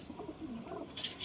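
A pigeon coos softly close by, with a couple of low, rolling coos followed by a brief rustle.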